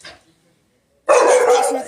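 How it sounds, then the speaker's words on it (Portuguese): Dogs barking at a gate, a loud, close burst of continuous barking that starts abruptly after a quiet pause. "E as cachorras latindo no portão."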